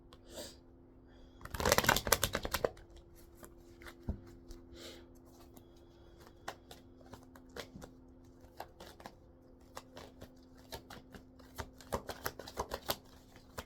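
Affirmation cards are shuffled in a burst of quick riffling snaps, followed by scattered soft taps and card slides as they are handled, near and fairly quiet.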